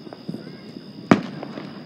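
Fourth of July fireworks going off, with scattered faint distant pops and then one loud, close bang, while a person talks nearby.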